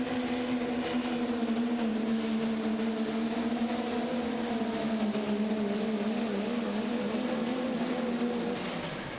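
A Dodge diesel pulling truck from the Lincoln Diesel Specialties team roars loud and close at a Pro Stock Diesel truck pull in Terre Haute, Indiana, its engine droning in a continuous, steady pull.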